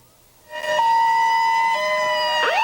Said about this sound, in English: Police sirens announced the arrival of Berkowitz at the courthouse